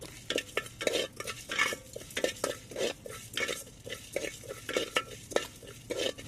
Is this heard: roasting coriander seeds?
yes